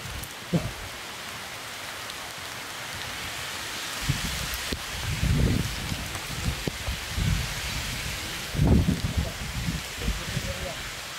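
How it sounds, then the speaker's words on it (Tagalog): Heavy rain pours down steadily outdoors as a dense, loud hiss, with occasional louder gusts and low rumbles and voices talking faintly underneath. "Sobrang lakas ng ulan tol, oh."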